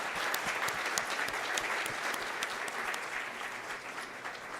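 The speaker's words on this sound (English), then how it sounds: "So may I suggest a very, very warm applause for the panelists." Warm, steady applause from a conference audience for the panelists at an economic policy forum, dense and sustained throughout with no voices standing out.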